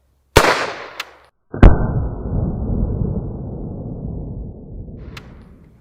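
A gunshot cracks sharply nearby, followed by a small click and then a second loud report whose booming echo rolls on and slowly fades over several seconds.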